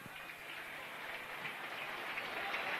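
A rugby crowd roars and cheers after Martin Pearson scores a try in a 1993-94 Rovers match, a dense, steady wall of cheering and clapping that holds throughout without letting up.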